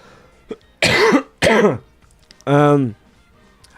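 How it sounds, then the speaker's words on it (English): A person coughs: a soft single cough, then two harsh loud coughs close together, followed by a longer strained, voiced cough. "I got a little bit of bit of a cough, so that's why"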